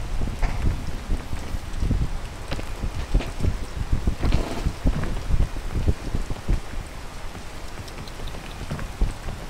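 Steady rain patters on a surface at Marcus Peak, dense and continuous, with some gusty wind noise rumbling against the microphone.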